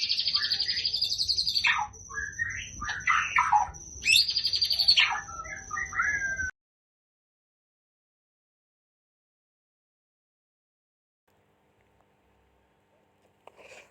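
A white-rumped shama (murai batu), recently through its molt, sings loud, close, varied phrases of whistles and chirps for about six seconds, then falls silent.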